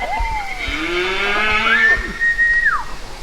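Cows moo in a barn at feeding time, several long, drawn-out calls sliding up and down, loud and close, with overlapping lows and some background shuffling.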